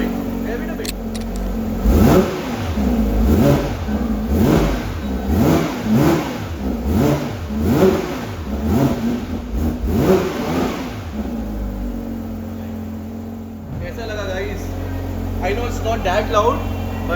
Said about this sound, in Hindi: Rev it a bit.